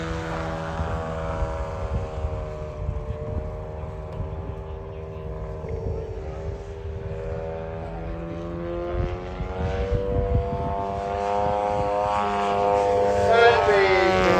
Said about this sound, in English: Tail of the aeroplane no more than about 2 feet above the grass now.